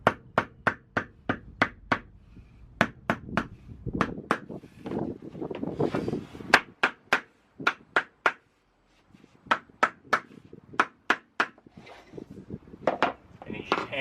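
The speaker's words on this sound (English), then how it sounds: "hammer it all the way up the length of the panel" Sharp hammer taps on a block against vinyl floor planks in a van come in quick regular bursts, close and crisp, with a scraping pause midway and muffled speech under some blows.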